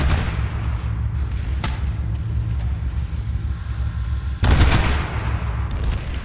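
Gunner fire from a Harasser buggy in a video game: a steady rumbling stream of rapid shots under vehicle noise, with two sharper bursts standing out, close and loud.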